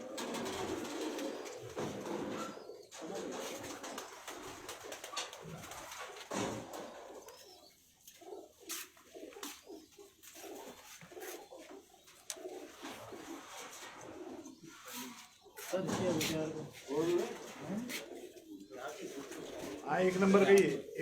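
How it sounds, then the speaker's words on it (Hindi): Tali pigeons coo in low, soft, repeated murmurs under frequent nearby talking, the cooing rising louder toward the end. "ये 20 नंबर टाली वाला कबूतर"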